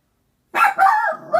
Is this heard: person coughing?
no